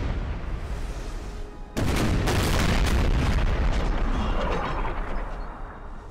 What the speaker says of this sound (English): That evening, he commenced a cannon bombardment on the town.